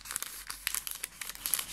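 Thin tissue-like paper crinkles and rustles as it is handled for a junk journal, a run of short, crisp crackles close to the ear with no talking.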